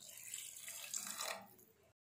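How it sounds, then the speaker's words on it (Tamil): Water splashes and pours steadily into a pressure cooker with mutton for biryani for a couple of seconds, then stops abruptly. "இதிலே நம்ம அளந்து வச்சிருக்க தண்ணியில இருந்து 1 கிளாஸ் தண்ணி சேர்த்துக்கலாம்"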